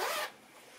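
A zipper on a pink bag is drawn open in one quick, close rasping pull lasting about a quarter second, then stops, leaving only faint room tone.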